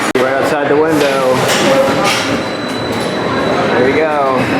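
Roller coaster trains at Six Flags Magic Mountain, two loaded to race side by side, give a loud, continuous rolling roar with rattling wheels that swells and fades, while people talk over it nearby.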